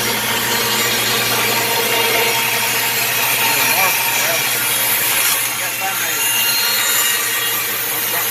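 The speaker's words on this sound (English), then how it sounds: "That chainsaw cut." Steady, continuous rasping of a chainsaw resawing oak on a sled, loud and close, holding a constant drone throughout with faint voices underneath.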